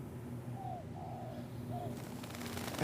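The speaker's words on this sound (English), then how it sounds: "There are actually still several dove nests up in the rafters here." Several doves nesting in studio rafters give soft, low cooing calls, three short coos in a row, faint and distant over a steady room hum, with no talking.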